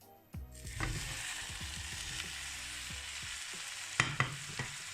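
Rice and meat for jambalaya are stirred in a hot pan, a soft steady sizzle with repeated scraping strokes and a couple of sharper utensil knocks near the end, close and without talk.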